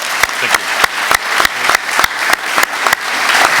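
Loud, close clapping from delegates at a technical commission session marks the end of a chairmanship. Sharp individual claps ring out in an even rhythm over a steady bed of applause.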